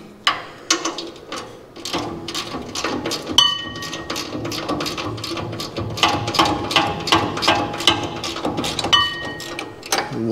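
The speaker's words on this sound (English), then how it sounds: "We'll get these nuts off and these bolts out of here" A 5/8 and 11/16 wrench ratchets on nuts and bolts during disassembly of a Power Wagon truck, giving rapid, repeated close clicking bursts with short pauses between strokes and no talking.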